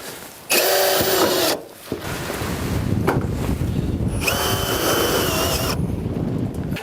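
A power drill drives V8 screws through corrugated roof panels on an insulated garden shed, with two loud, sustained whirring bursts and duller fabric-like rumble between, outdoors with wind on the microphone.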